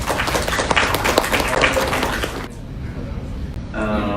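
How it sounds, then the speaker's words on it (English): A conference audience on Buddhism in Southeast Asia claps loudly and densely for about two and a half seconds, then the applause cuts off and a voice begins speaking in the quieter room. "please give a big applause."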